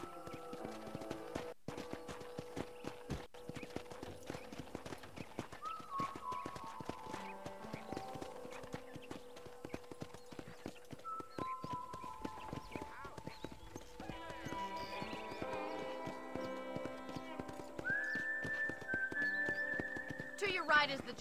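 Steady clip-clop of horse hooves in the video game Red Dead Redemption keeps a walking rhythm throughout, under game music with sustained tones and someone speaking now and then.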